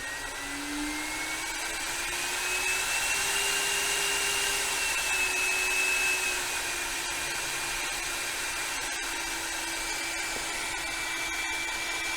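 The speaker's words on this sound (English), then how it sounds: "Okay, switch the spindle on." A Sainsmart 4040 Pro CNC spindle runs steadily while cutting a 3D commando dagger, a loud, close, high whine with a slowly shifting pitch and no talk over it.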